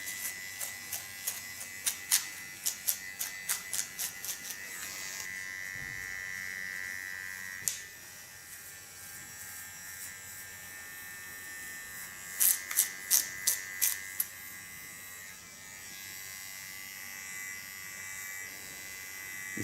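A small electric hair clipper buzzes close up with a steady motor whine, broken by clusters of sharp rhythmic clicks and snips as it cuts through hair, a few strokes early and again later.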